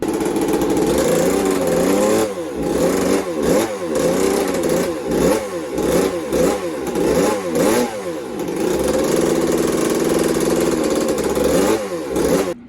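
A 2001 Suzuki RM80 two-stroke dirt bike with a carburetor air leak runs loud and close, its revs surging and dropping repeatedly in uneven blips over a steady raspy drone.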